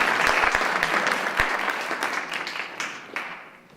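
Audience applause at a school board meeting in Wausau, a burst of many hands clapping with a few sharp claps early on, gradually thinning and fading toward the end.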